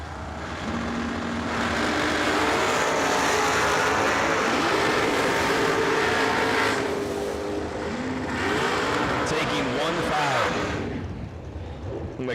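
Race cars roar down a racetrack at a racing event, their engines building in a loud sustained rising drone that swells twice. An announcer talks over the noise.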